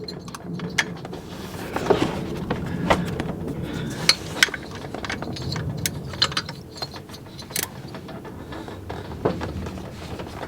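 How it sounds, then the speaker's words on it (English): A wrench breaks loose 12 mm bolts on a Toyota 4Runner/Tacoma fan clutch, with irregular metallic clicks, ratcheting and clanks against a low engine-bay background, close up. "Okay, it's a 12 millimeter. I'm going to break all of them loose first."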